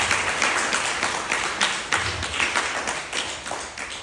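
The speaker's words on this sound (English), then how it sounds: "you definitely deserve a round of applause" An audience at a holiday party for a research study applauds, a steady run of overlapping hand claps from a room of people, with sharper louder bursts rising and fading throughout.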